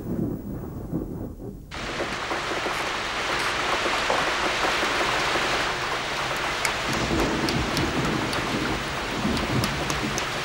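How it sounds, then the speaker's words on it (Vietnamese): Heavy rainy-season rain begins abruptly after a brief lull, then pours steadily as a dense, loud hiss, with distant thunder rumbling underneath; no voices are heard. "Mùa mưa lại đến rồi."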